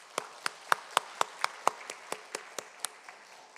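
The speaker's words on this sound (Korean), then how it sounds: "우리 박수해 주시기 바랍니다." Church congregation clapping during a worship service, with crisp individual claps repeating at a steady beat, loud at first and then gradually fading over a quiet background.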